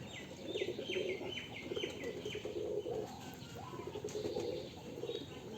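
Giribaj pigeons at a farm coo in repeated low phrases while higher chirps and wing flaps mix in close by.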